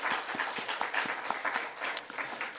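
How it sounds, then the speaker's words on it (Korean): Church congregation clapping together in a sanctuary for the choir, a short steady burst of applause with dense overlapping claps throughout. "박수 한번."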